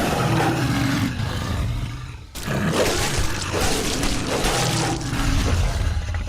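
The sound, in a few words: recorded monster roars played during tabletop game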